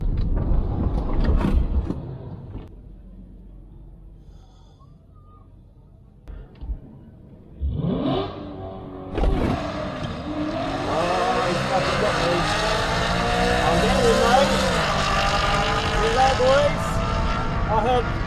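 Tesla Model 3 drag racing an Audi RS4 4.2 V8 at a strip, opening on a low rumble, then a quiet pause before a loud launch and rising engine roar that climbs steadily through gears, with voices briefly over the start.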